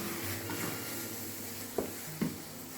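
Vegan mushroom risotto is stirred in a pan over a soft, steady background hiss. Two brief spoon scrapes stand out near the end, and the whole scene stays quiet with no talking.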